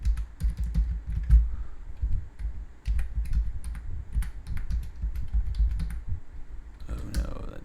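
A password is typed on a computer keyboard, rapid close key clicks in an uneven stream lasting several seconds, with faint background murmur.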